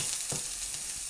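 Beef burger topped with mushroom, cheese, egg and chili frying in a cheap new frying pan, giving a steady close sizzle and crackle with a brief louder burst of spitting fat.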